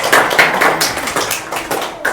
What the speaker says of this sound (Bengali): ওর জন্য আরেকটা হাততালি দাও